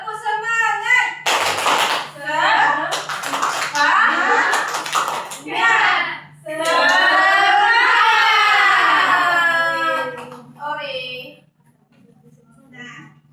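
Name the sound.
children doing the 'tepuk semangat' clapping routine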